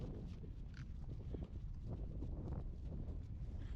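A horse walking under a rider, hooves clip-clopping in a steady, low rhythm at close range, with some wind noise around the hoofbeats.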